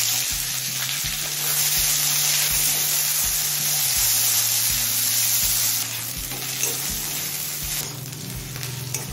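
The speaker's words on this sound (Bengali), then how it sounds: "এবার দিচ্ছি কুচনো একটা মাঝারি সাইজের পেঁয়াজ।" A medium chopped onion fries in hot oil already crackling with cumin seeds and a bay leaf, giving a loud, close, continuous sizzle punctuated by regular clinks of stirring.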